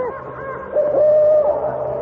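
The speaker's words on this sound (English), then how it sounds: "It is just an owl." An owl hoots as a sound effect in a radio mystery drama: one sustained, fairly loud hoot rises out of a steady low background and holds for most of a second.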